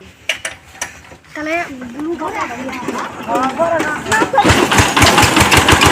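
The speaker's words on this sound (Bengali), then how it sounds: "মেশিন কিন্তু চালু হয়ে গেছে।" A motor-driven machine for puffing rice mixed with oil, turmeric and cumin starts up and runs with a rising mechanical rattle, close by, under lively talk from several people.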